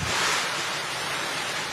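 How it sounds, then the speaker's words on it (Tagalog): Gusty typhoon wind driven with heavy rain in La Union during Typhoon Pepito, a dense, continuous hiss and roar of wind and rain with no calm gaps. "Pabugso-bugsong hangin din ang sumabay sa malakas na ulan sa La Union."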